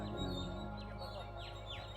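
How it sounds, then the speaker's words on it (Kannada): Birds chirp and tweet with quick, high rising notes above a steady loud background hum in Lalbagh botanical garden, the calls moderately distant and partly masked. "ಈ ಹಕ್ಕಿಗಳ ಚಿಲಿಪಿಲಿ ಗುಯ್ ಗುಯ್ ಅಂತ ಕೇಳಿಸ್ತಾ ಇದೆ"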